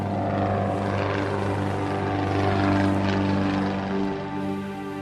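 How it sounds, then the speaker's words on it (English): A small propeller airplane drones steadily over a glacier, its engine hum loud and continuous, swelling slightly as it approaches, with no voices. "And I hear an airplane."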